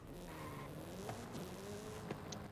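Honda Type R driving in Forza Horizon 5, with a quiet, steady engine drone and tyre noise that rise and fall in pitch as the car shifts, plus a few faint clicks.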